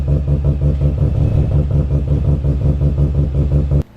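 A Mazda RX-7 Series 4 with a bridgeported rotary engine idles close by with a loud, choppy, lumpy rhythm, a fast uneven brap pulsing steadily before cutting off abruptly near the end.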